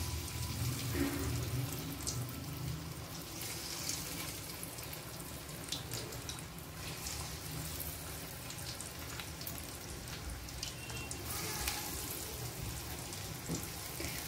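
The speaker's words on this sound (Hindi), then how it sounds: "ये मैं इसमें ऐड कर रही हूँ जिंगर स्ट्रिप्स और ये देखिए इसमें बबल्स बनना शुरू हो गए हैं" Zinger strips deep frying in hot oil, a continuous bubbling sizzle with a watery texture, steady and moderately close throughout.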